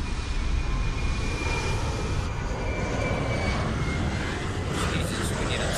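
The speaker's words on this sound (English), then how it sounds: "those airplanes are loud out there." Jet engine roar from a PMDG 737-600 airliner in a flight simulator, parked at Boston, a loud steady broadband drone with a faint high whine that runs unbroken from start to end.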